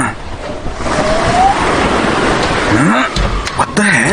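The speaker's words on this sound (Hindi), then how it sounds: "अरे, ये अचानक से इतनी तेज हवा कहां से चल पड़ी?" Strong wind gusting around weak windows at night in a horror audio drama, a loud continuous roar that stays dense throughout, with a few rising swooshing sweeps near the end.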